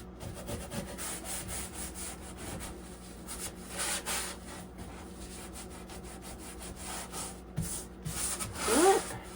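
Abrasive pad scrubbing the edges of a surface during a whole-house clean: a steady, close rubbing scour with short strokes and a brief harder burst near the end, no talking.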